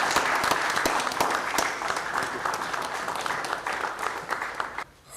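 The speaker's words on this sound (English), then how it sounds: "Can we all give a big round of applause" Audience at an organization's annual general meeting breaking into steady, dense applause that carries on evenly and then fades near the end.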